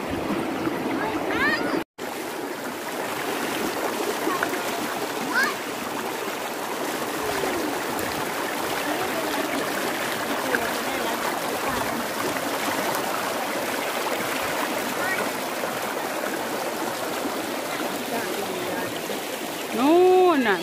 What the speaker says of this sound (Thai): นู่นน่ะมีน้ำตกเห็นป่ะนู่นน่ะ